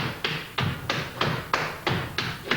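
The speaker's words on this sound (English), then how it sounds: "it's based on the step chug chug chug, step chug chug chug." Flatfooting dance steps tap on a wooden floor in a quick even rhythm, about eight sharp percussive hits with light thuds, close and clear with no talking.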